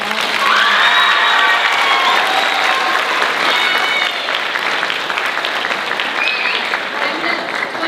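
Loud, sustained applause from a large audience at a student film assembly, with scattered cheers and whoops mixed in throughout.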